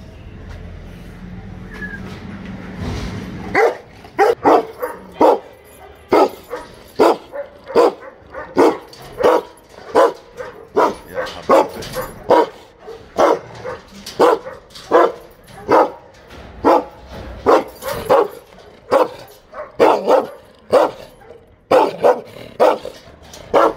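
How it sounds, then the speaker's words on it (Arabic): A dangerous, aggressive dog barks repeatedly and loudly at close range from inside its cage, a steady run of forceful barks with brief gaps, following a few seconds of quieter background sounds. "الكلب خطير جدا"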